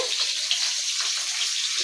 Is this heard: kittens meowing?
no